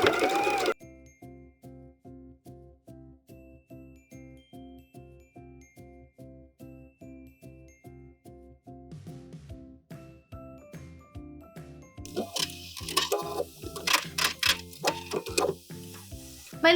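Steady, even rhythm of a sewing machine running a straight stitch for a 1/4 inch rolled hem on a skirt lining, fairly quiet and close, growing louder with added rustling toward the end.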